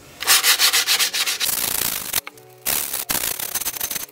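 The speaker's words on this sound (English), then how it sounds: "Fold your excess grip that you just cut off over, and you'll basically just sand this area down." Folded skateboard grip tape scrapes against the board's edge in quick, rhythmic rasping strokes, close and loud, with two short pauses before the sanding resumes.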